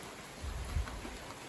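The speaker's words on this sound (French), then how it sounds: "Donc le ciel est couvert, il pleut" Rain falling at night under an overcast sky with gusty south-southwest wind, a faint steady hiss with low buffeting rumbles and a couple of brief louder gusts, no voices.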